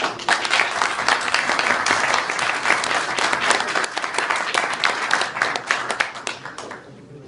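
An audience claps and applauds loudly and steadily, the dense applause tapering off slightly toward the end.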